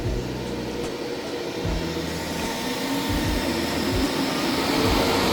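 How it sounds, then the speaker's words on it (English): A steady mechanical whir of GPU mining rig fans runs continuously, with a few low hums shifting in pitch underneath. "I can hear the fan running though."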